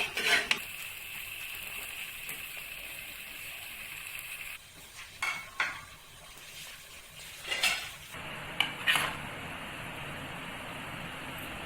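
Spoon scraping and clinking against a pot while suji halwa is scooped out and served, several short metallic scrapes and taps over a quiet sizzling background with no talk.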